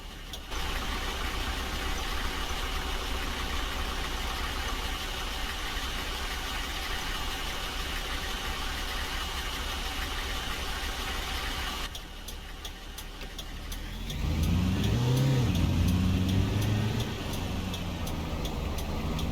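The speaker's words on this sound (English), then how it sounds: "And there the engine sounds" A minibus engine in the bus-driving game Fernbus hums at a steady idle, cuts out briefly, then returns with a swelling rev and wavering pitch, close and even with no voices.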